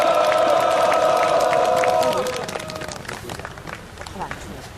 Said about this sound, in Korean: 박수로 모십시오.